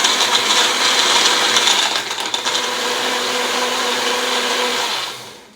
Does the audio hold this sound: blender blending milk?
yes